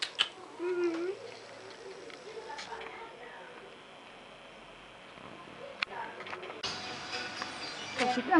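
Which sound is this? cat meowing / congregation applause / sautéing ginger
cat meowing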